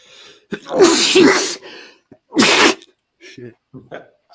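Two loud sneezes in quick succession indoors, each a sharp burst, followed by brief quiet voices talking.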